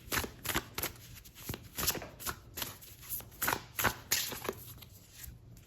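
Tarot cards are shuffled by hand in a series of crisp riffling bursts and soft slaps, close and fairly loud, with uneven pauses between them and no talking.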